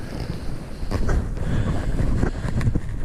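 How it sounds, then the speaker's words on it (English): Wind gusting across an open frozen lake at Barnes Meadow during an ice fishing trip, a continuous low rumbling buffet on the microphone with swelling gusts, loud and close, no talk. "It's windy, as always."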